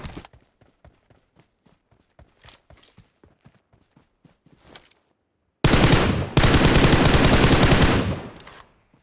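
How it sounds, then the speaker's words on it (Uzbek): Rapid bursts of video game gunfire, a string of sharp single shots followed by a loud sustained volley of automatic fire. "O'q ovozini eshitdim."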